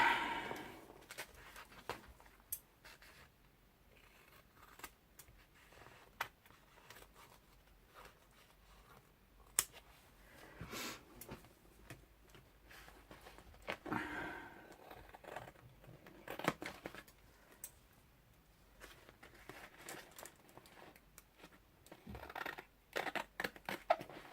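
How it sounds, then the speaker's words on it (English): Quiet, repeated snipping of scissors cutting a paper napkin, with soft rustling, scattered clicks and crinkles over a long stretch, close but faint. "Get my scissors."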